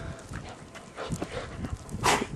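Dogs flounder through knee-deep blizzard snow, making close, irregular scuffling crunches and snuffling, with a sharper burst of movement near the end.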